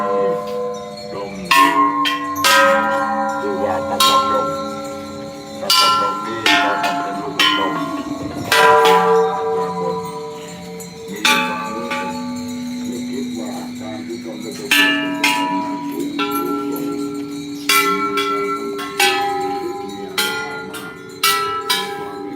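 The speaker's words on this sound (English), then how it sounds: "You didn't hear me banging the gong." A gong at Wat Saket, the Golden Mount temple, is struck repeatedly at uneven intervals, each loud hit ringing with sustained metallic tones that decay between strikes.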